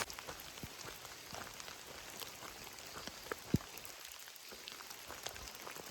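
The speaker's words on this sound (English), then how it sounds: "the rain is starting to let up a little bit" Light rain patters steadily on the Appalachian Trail, with scattered soft drops and a faint background hiss; quiet and even throughout, no voices.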